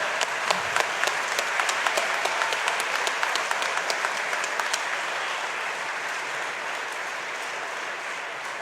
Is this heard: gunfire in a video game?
no